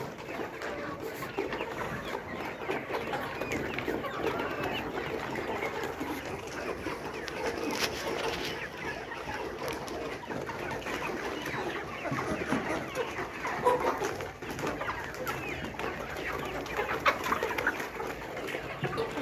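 Layer hens raised on a farm cluck and chatter continuously at moderate volume, a steady dense flock murmur with scattered louder calls and no talking.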